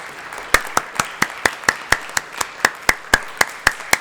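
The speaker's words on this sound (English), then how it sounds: "We have to fucking clap it up, bro." Hands clap in a steady, fast rhythm, about a dozen sharp, loud claps spaced evenly, with no talking.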